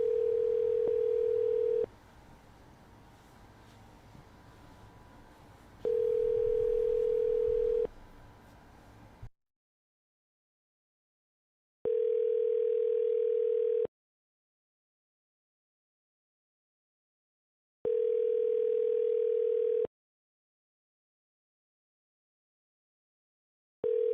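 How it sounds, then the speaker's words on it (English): A telephone voicemail beep sounds repeatedly, a steady pure tone lasting about two seconds each time, four long beeps spaced apart with quiet gaps, the first two over faint background noise and the later ones in near silence. "At the tone, please record your message."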